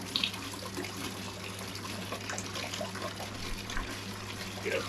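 Antifreeze pours steadily out of a 1968 Pontiac ambulance engine, a continuous close splashing trickle of liquid under low background hum, with no talking.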